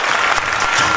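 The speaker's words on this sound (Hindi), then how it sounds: "मेरी वाइफ के लिए एक बार जबरदस्त तालियां होनी चाहिए" Loud, dense applause from an audience clapping for a man's wife, filling the whole second at an even, close level.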